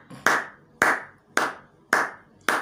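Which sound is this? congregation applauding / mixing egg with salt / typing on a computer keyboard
congregation applauding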